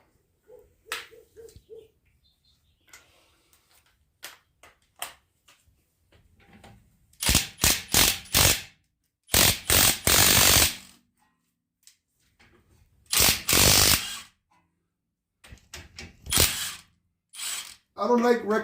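An impact wrench loosens brake bolts on a 2019 Chevrolet Traverse, giving loud rattling hammering bursts of a second or two separated by quiet pauses, with fainter clicks and handling noises between them.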